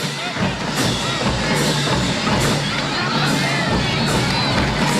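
A crowd and family cheer at a high school football game, Murphy vs. Blount, a steady broadband roar of voices and shouts sustained throughout with occasional sharper whoops rising above it.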